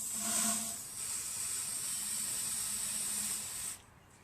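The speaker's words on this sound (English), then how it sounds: "I'm going to spray some starting fluid in here." Starting fluid sprayed from an aerosol can into the open air intake of a Poulan lawn tractor with a 14.5 HP Briggs engine and the air filter box removed: one continuous close hiss lasting about three seconds, then cutting off abruptly.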